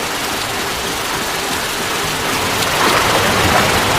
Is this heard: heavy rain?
yes